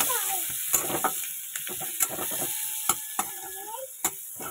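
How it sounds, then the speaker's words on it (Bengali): Bay leaves and crushed garlic fry in oil in a pan, a steady sizzle broken by sharp clicks and scrapes of a spoon stirring against the metal, close up with no voices. "দিয়ে এবার একটু ভালো মতো করে এটা ভেজে নেব।"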